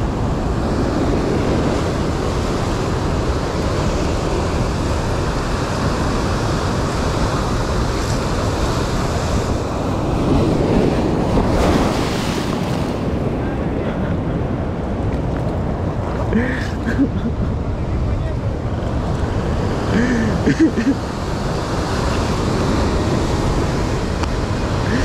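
Heavy sea surf surges against coastal rocks on a Chilean shore, a loud, unbroken roar of churning water with wind buffeting the microphone throughout.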